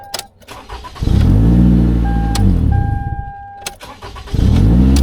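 A 2011 Toyota Camry with a stalling fault and P0335/P0339 crank sensor codes cranks and fires up twice, each start rising into a loud, close idle with a steady low engine hum, amid warning chimes and no talk.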